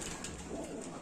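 A pet diamond dove sitting on eggs gives a soft, close coo, a single short low call over a light room hum.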